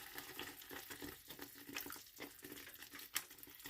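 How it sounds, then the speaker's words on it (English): A little water runs from a tap into a cooking pot in a faint, continuous trickling splash with small fluctuations and one brief louder splash near the end, heard alone without talk. "Okay, now I add just a little water."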